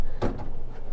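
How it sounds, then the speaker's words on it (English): A folding privacy door inside a 2001 National RV Seaview 831 motorhome closes with one short, close thump and rattle of its panels, then a quieter click as the little lock clamps shut, with no talking. "this door that folds this way and then clamps right here with this little lock"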